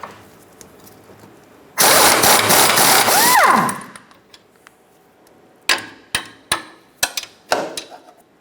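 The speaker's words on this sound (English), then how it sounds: "Remove the nut off of the top sway bar link." A power tool runs a loud sustained burst on the top sway bar link nut of a 2007-2012 Nissan Altima, then falls quiet before a series of sharp metallic clanks and knocks.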